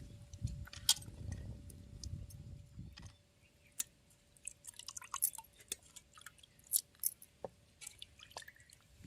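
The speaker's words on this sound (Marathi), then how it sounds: "साफ करून झालेत मासे आता धुवून घेते" Cleaned fish being rinsed in water by hand, with scattered drips, small splashes and light clinks of a vessel, busier sloshing in the first three seconds, then sparse drips; no talking.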